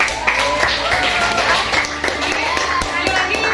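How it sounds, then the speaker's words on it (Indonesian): Classroom of students clapping together during a differentiated-learning lesson, a continuous rattle of claps at steady loudness, with voices mingling throughout. "Oke, tepuk tangan."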